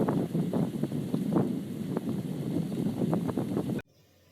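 Strong wind buffets a dive boat off Belize, a steady, loud rushing roar with low rumbling gusts and faint splashes, cutting off abruptly near the end.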